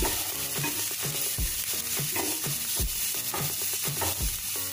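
Spices being stirred into palak roll filling in a hot pan, with repeated scraping strokes of a spoon over a continuous soft sizzle of frying, close and moderately quiet.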